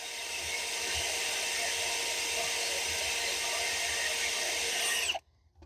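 A power drill bores into metal with a steady, close, high-pitched whine and grinding for about five seconds, then cuts off abruptly into near silence.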